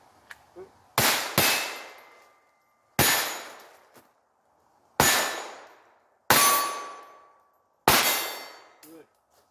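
Five sharp shots from a Ruger SR22 pistol, each with a bright metallic clang from a steel target and a long fading ring. They are spaced a second or two apart, loud and close, with a couple of faint clicks between them.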